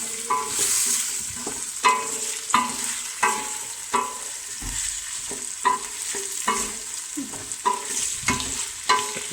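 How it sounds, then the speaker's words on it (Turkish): Potatoes, carrots and onions stirred in a pot for vegetable soup: a spoon scrapes in a steady rhythm of regular strokes over a soft, continuous sizzle. "karıştıralım patateslerimizi, havuçlarımızı, soğanlarımızı"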